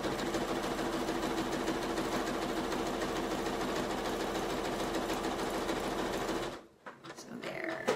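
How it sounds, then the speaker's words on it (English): A sewing machine stitches a postcard, a steady close mechanical whir with rapid needle chatter running continuously for about six and a half seconds before stopping abruptly, followed by faint handling noises. "I'm going to stitch over it again"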